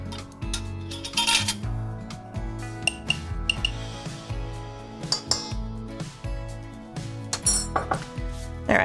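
Flour, salt and cinnamon being mixed in a bowl for a cinnamon streusel coffee cake, with repeated clinking and scraping of a utensil against the bowl in an uneven rhythm, close and clear, with no talking.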